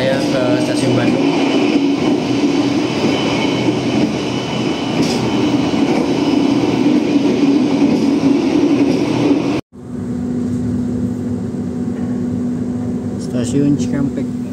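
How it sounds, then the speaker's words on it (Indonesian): Steady, loud rumble and rolling hum inside the cabin of an Argo Parahyangan train running from Jakarta toward Bandung, continuous throughout with a brief dropout near the end before the noise resumes. "Ini suasana di kabin kereta api Argo Parahyangan yang membawa saya ke stasiun Bandung."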